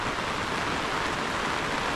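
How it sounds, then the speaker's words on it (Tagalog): Heavy rain falls in a rural province, a dense, even hiss of downpour filling the space without pause, loud and constant, no voices. "Kasi patuloy yung pag-ulan mga kaprobinsya."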